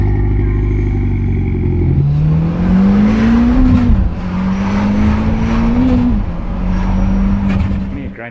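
A car engine revs loudly from inside the cabin while driving, rising through the gears in two long upward sweeps with a gear change between, steady and close throughout.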